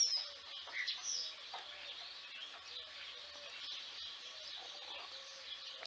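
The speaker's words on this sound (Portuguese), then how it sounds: "São umas galinhas aí fazendo barulho" Chickens cluck and squawk faintly in the background, a steady scatter of small calls running throughout at a modest distance.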